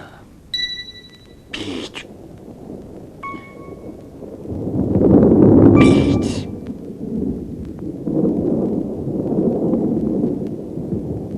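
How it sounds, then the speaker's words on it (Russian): Deep thunder rolls up and swells during a mountain storm with rain, a long low rumble rising to a peak and fading, with brief tonal sounds heard before it. "Видишь, какая туча? Гром гремит."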